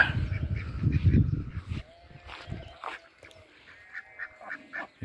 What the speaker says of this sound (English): Hello duckies.